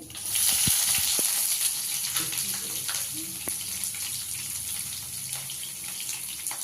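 Cumin, onion, green chilli and curry leaves frying in a pan for a beetroot fry, a bright steady sizzle that surges loud at first and then settles, with a few small clinks near the start.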